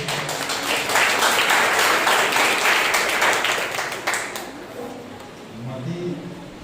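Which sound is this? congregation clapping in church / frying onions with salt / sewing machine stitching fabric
congregation clapping in church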